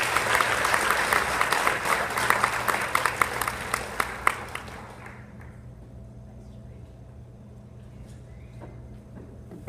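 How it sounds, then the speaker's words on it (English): Applause from a conference audience for Jeff Graham rises as dense, busy clapping, then fades after about five seconds, leaving a quiet room with a few scattered claps. "Please give a round of applause to Jeff Graham."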